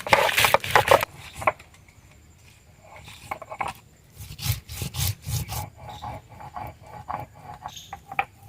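Cutting garlic and chilies together on a board for a cow milk chicken curry, a run of close, dry rasping and chopping strokes in irregular bursts, loud at the start, then softer and sporadic.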